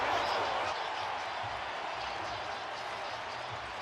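NFL stadium crowd at a snowy playoff game between the Colts and Chiefs roaring over a touchdown, a broad, steady wash of cheering and applause from a large distant crowd.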